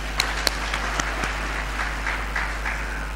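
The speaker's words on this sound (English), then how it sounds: "let us give him another round of applause." An audience at an engineers' anniversary conference session gives a round of applause, a steady wash of clapping with a few sharper near claps standing out, lasting the full span without talk.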